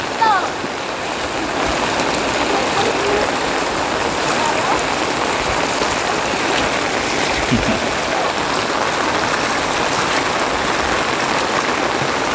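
Floodwater rushes along a road toward a drain hole during a typhoon, a loud, continuous watery churn close by, with voices talking faintly over it.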